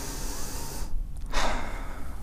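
A single deep inhalation through the nose, a drawn-out close breath that swells and then releases, against a steady soft background hiss with no talking.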